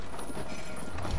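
Horse hooves clip-clopping while riding in World of Warcraft, a brief steady run of soft hoof beats over game ambience with no talk.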